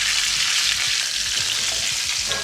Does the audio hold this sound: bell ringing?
no